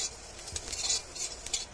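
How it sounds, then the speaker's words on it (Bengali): Fennel seeds dry-roasting in a pan for mango pickle spice, stirred with a spoon in soft scraping passes, with faint crackles and a sharp clink of metal near the end. "এবার আমি ভেজে নেব মৌরি।"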